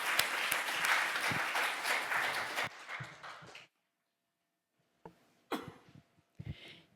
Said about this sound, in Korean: 다시 한번 큰 박수로 청해